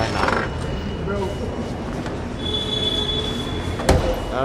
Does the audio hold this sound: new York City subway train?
yes